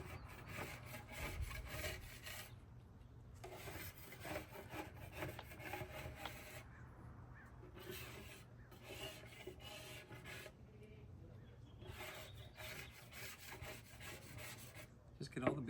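A putty knife scrapes built-up wax off a surfboard in repeated rasping strokes, close and fairly quiet, with short pauses between passes.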